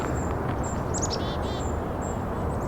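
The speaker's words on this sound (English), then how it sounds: "I'm hearing brown creeper, very high-pitched, kind of ringing sound" Brown creeper giving a few faint, very high, thin ringing calls during a winter Christmas bird count in Cambridge, set against a steady wash of background noise.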